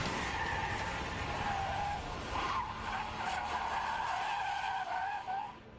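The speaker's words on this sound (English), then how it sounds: "Oh, I smoked the tire." Car tires squeal and skid continuously on pavement during a driving challenge, a steady, loud screech lasting the whole stretch with a slight dip midway.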